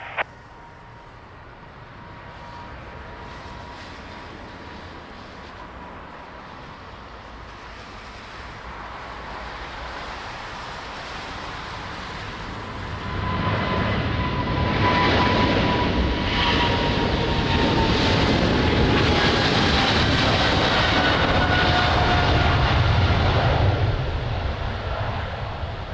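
An aircraft lands on runway 20 at Lisbon Airport in the rain, its engine roar rising from a distant hum to a loud, sustained rushing noise that peaks and lingers before easing slightly.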